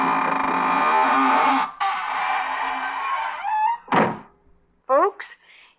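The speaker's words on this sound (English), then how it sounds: "now it's time to close the squeaking door." A creaking door swings shut in an old radio mystery drama, a long, loud, sustained groaning squeak followed by a sharp thud and a few short trailing squeals.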